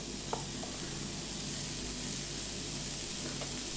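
Brown onion and crushed, chopped garlic frying in a pan with curry powder, a faint, even sizzle with a couple of light utensil taps, no voices over it.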